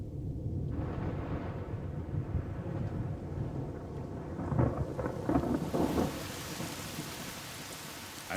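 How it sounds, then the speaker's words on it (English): Rolling thunder and steady rain of an October thunderstorm approaching across the Masai Mara in the Serengeti, a continuous low rumble with rain hiss and a few louder cracks near the middle, no voices. "On the Masai Mara, the storms of October approach."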